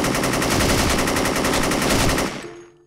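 An AN94 rifle fires a sustained rapid automatic burst in the video game Special Force, loud and close, the rattling shots running for over two seconds before cutting off into a short fading tail.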